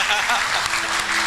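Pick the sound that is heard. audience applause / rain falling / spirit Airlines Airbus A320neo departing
audience applause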